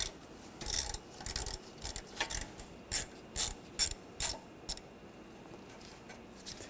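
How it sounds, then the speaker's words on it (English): A ratchet with an 8mm socket backing out a brake hose bracket screw on a 2013-2019 Ford Escape, a series of quick close clicking bursts in uneven short runs, then a few crisp single clicks, with no talk. "We're going to take this screw out, use an 8mm socket."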